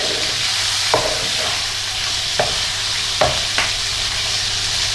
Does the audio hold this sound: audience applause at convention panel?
no